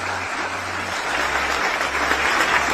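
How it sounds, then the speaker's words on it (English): Steady applause from a crowd at a political campaign-style event, a dense, even wash of clapping that holds at a constant level throughout, with a low hum underneath. "Everybody clap"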